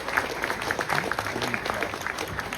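Applause from a convention panel audience at San Diego Comic-Con, a steady wash of clapping with faint murmurs running through it, moderately loud and continuous throughout.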